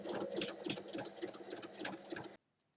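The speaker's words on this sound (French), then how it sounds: "Et on fait donc la piqûre." Sewing machine stitching fabric: a steady, fast mechanical chatter of needle strokes, close and moderately quiet, running for about two seconds before stopping abruptly, with no speech.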